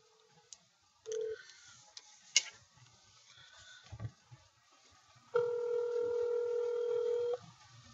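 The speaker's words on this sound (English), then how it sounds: "Let's see if we can get him on the phone right now." A telephone call being dialed: a few short keypad tones and clicks, then a long steady dial tone holding for about two seconds, quiet and close.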